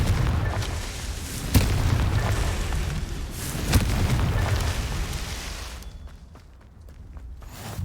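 Confringo spell blasts in Hogwarts Legacy on PS5, with two sharp booming bursts amid a dense rumbling game soundscape, followed by a quieter stretch with faint footsteps.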